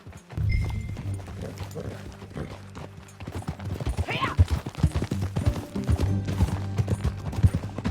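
Horse hooves clip-clop in a steady walking rhythm over a low rumbling backdrop, with a brief snort or whinny partway through, in the video game Red Dead Redemption 2.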